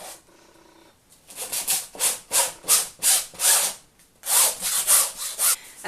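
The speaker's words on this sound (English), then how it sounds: "I've pretty much sanded this down as much as it needs to be" Hand sanding of a painting canvas with coarse, gritty sandpaper: a brief faint rasp, then a steady run of close, rhythmic back-and-forth scratchy strokes, a short pause, and another quick series of strokes.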